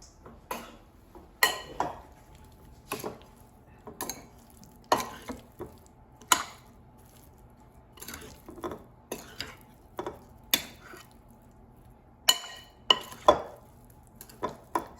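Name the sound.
mixing red potatoes with seasoning and butter in Instant Pot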